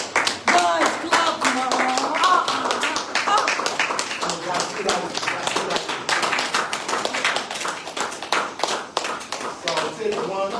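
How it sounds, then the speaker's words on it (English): Audience members clap after a money-management talk, with uneven, scattered claps that come and go while people talk over them throughout. "Guys, clap,"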